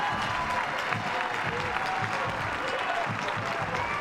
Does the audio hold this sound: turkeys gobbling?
no